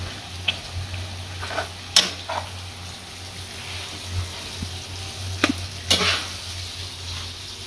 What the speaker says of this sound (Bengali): বেসন গুলে ফেলতেছি